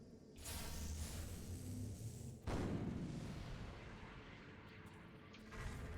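Rockets explode during a video game match: a deep sustained rumble gives way to a loud, sharp blast midway, then a long fading roar, with no voices.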